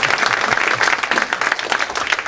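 A seminar audience at a hydropower event gives a short round of applause, many hands clapping densely and evenly throughout, fairly loud and close.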